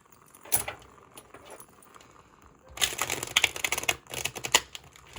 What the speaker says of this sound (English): we're gonna give these cards a good shuffle.